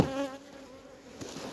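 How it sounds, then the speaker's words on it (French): Bees buzzing among mustard flowers in a field near beehives, a steady close insect drone that is loudest at the start and then settles into a softer continuous hum. "les abeilles, elles en profitent"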